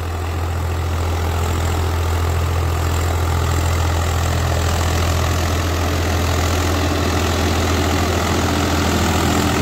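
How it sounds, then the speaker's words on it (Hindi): A new Swaraj 744 XT tractor engine idles steadily, with a deep, even low-pitched rumble and a constant mechanical chatter that stays loud and close with no talking. "बड़ी प्यारी उसकी आवाज है ट्रैक्टर की"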